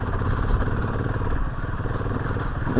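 A motorcycle carrying a local family, a man, woman and child, putters along at a slow pace on a muddy Himalayan mountain road near Kaza, its engine a steady, moderately close hum with light rattling and no talking.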